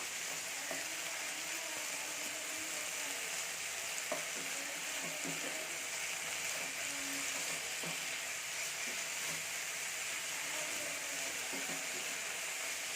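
Spinach frying over high heat in a pan: a continuous broadband sizzle holds steady throughout, with faint scattered utensil scrapes and taps as the greens are moved around, no talking.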